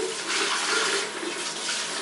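Running water rinses a freshly cleaned bathroom surface, a steady, close hiss and splash of flowing water continuing without pause.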